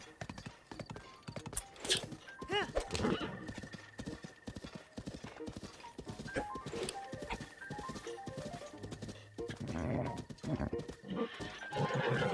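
A horse gallops in The Legend of Zelda: Breath of the Wild, its hooves clip-clopping in a quick, steady rhythm with occasional whinnies and a voice talking over it.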